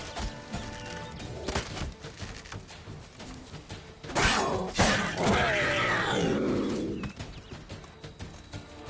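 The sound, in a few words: bird calls in the video game Witcher 3: Wild Hunt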